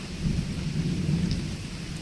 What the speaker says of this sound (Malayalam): ആഹാ ഇടി വെട്ടുന്നല്ലോ